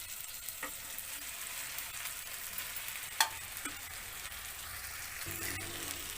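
Hot cooked rice is mixed into a tomato mixture in a pan for tomato pulihora, giving a soft continuous sizzle with occasional light spatula knocks and scrapes, fairly quiet and steady throughout.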